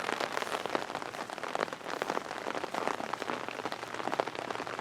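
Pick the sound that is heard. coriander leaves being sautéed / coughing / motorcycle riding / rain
rain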